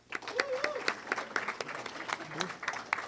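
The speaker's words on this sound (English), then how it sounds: "That's fine, we still clap for him." Sparse, scattered clapping from a small audience at an esports awards event, about a dozen distinct claps over a few seconds, with a voice speaking faintly underneath.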